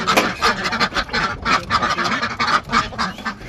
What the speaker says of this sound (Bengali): এই যে আমার হাঁস মুরগি, এদেরকে ছেড়ে দেবো